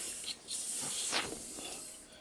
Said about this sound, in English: I'll spray it with a little WD